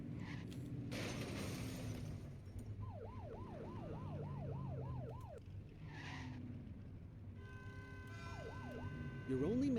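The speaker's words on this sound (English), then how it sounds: "Get on that tail and flip the siren" A police car siren in the video game The Precinct wails in quick rising-and-falling cycles over a low engine rumble, stops, then starts another short burst near the end, fairly quiet overall.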